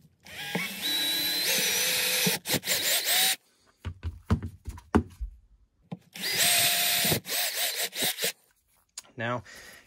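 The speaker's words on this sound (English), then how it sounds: "Now we'll drill our holes again." A power drill whirs loudly in two long bursts while drilling holes for a wire antenna counterweight, revving up and down, with short knocks and handling noises between them.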